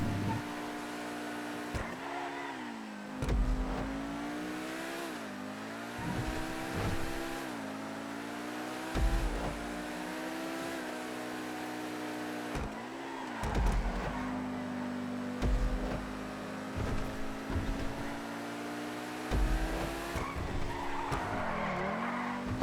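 A car in GTA driving around a custom-built track with a steady revving engine and repeated long tire squeals and skids, shifting pitch through turns, continuous and loud with no talking.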